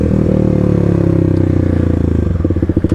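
Kawasaki KLX300 dirt bike being ridden, its single-cylinder engine loud and close with a steady throbbing note that turns choppier and pulsing as the throttle eases toward the end.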